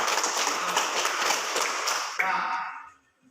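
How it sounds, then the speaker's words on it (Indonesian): Classroom applause for group 1, a dense wash of many hands clapping together near and fairly loud, thinning in the last second and fading to silence. "tepuk tangan kepada kelompok 1"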